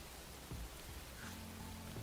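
Steady rain ambience from a Black Ops 3 custom zombies map, a continuous hiss of falling rain with a few faint low thuds underneath.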